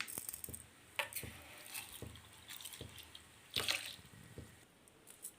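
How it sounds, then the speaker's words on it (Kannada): Urad dal being put to soak in water, with soft close trickles, drips and small splashes of water and grains against a vessel, plus light clinks at irregular intervals and no talk. "ಇಷ್ಟು ಉದ್ದಿನಬೇಳೆ ನೀರಿಗೆ ಹಾಕ್ಕೊಂಡು ನೆನೆಸ್ಕೋಬೇಕು ಚೆನ್ನಾಗಿ"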